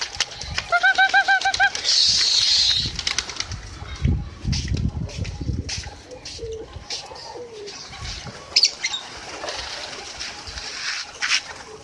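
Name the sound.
pigeons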